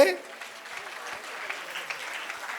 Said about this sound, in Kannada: ಬರಲಿ ಒಂದು ಜೋರಾದ ಚಪ್ಪಾಳೆ.